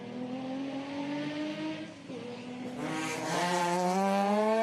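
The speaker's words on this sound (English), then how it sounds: "Matt Lovely's the line now in the Group B replica Mazda RX-7." A Group B replica Mazda RX-7 rally car sits at the start line of a sprint event, its rotary engine droning steadily before the revs climb sharply and grow louder toward the end.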